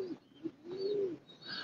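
Pigeons in a loft give low, soft cooing calls, a few gentle rolling coos close by and fairly quiet, with faint chirps in the background.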